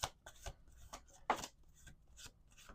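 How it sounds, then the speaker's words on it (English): A tarot card deck is shuffled by hand in quiet, soft, irregular bursts of papery riffling and sliding, with a slightly stronger rustle midway. "Okay, we're doing one more shuffle."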